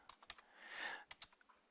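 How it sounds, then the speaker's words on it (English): Keys on a computer keyboard being pressed while formatting a document, a quick series of light, close clicks with a brief louder rustle of keystrokes in the middle, no talking. "On the left hand corner of your keyboard is the tab button"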